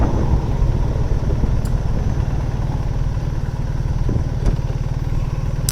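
A 2025 BMW R 1300 GS Adventure motorcycle engine running at idle, a steady close mechanical rumble and clatter with no talk.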